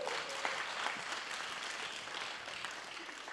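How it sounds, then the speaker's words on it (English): Sustained audience applause fills a vocational excellence award ceremony, a dense, steady wash of clapping from a large crowd that holds at an even level throughout, with no voices rising above it. "Applause."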